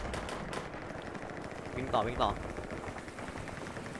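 Automatic gunfire in the video game Call of Duty Modern Warfare 3, with rapid bursts crackling under an excited player's continuous talk. A couple of sharper shots stand out midway.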